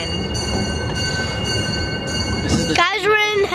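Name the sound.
Redwood Valley Railway steam train running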